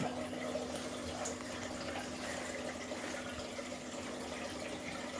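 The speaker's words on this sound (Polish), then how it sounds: "woda się wylewa przez wąż odpływowy" Steady rushing water drains through the drain hose of a Candy washer-dryer, a constant gushing hiss with a faint hum underneath, no talking.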